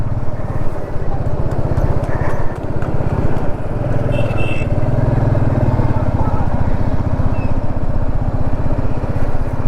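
A motorcycle ridden on the road near Birgunj at the Nepal border, its engine thrumming steadily and close for the whole stretch, with a voice talking over it.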